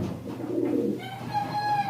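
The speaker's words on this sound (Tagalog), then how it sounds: "Mayroong mga kalapati diyan." Pigeons kept as a hobby in the Philippines cooing nearby, soft low murmuring coos in the first half followed by a clearer sustained call, with outdoor background noise.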